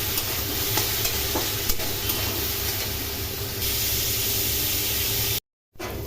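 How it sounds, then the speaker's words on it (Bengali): Egg pieces fry in hot oil in a wok, a steady dense sizzle with faint scraping stirs, close and continuous, cut by a brief silence near the end. "ডিম কড়াগুলো ভেজে নেব"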